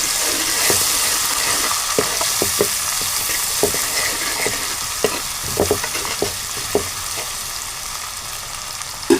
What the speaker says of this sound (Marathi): आपण आता ढवळून घेऊ.